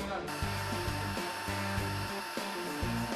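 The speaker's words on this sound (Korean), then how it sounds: "벽면 사이사이에 청소기에 흡입구를 바싹 붙이고 먼지를 빨아들입니다" A vacuum cleaner roars steadily and loudly, its nozzle pressed tight into gaps along the wall of a fire-damaged room as it pulls up soot and dust, the tone shifting slightly as it moves.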